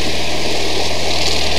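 Propeller aircraft engine at Breighton during take-off, a loud, steady droning roar that dominates throughout.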